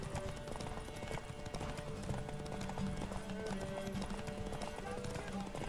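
A horse gallops in The Witcher 3: Wild Hunt, with steady rapid clip-clop hoofbeats over a dense in-game soundscape of ambient noise and faint music, fairly quiet and continuous.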